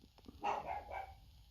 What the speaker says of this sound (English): Excuse the bark in the background.